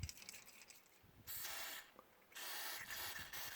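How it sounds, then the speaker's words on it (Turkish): Cleaning spray hisses from a can onto the disassembled parts of a Banax Kaigen 500 electric fishing reel in two close, sharp bursts, the second longer, with quiet pauses around them. "Sonra da yağ alacağız bizim bir temizleme spreyimiz var."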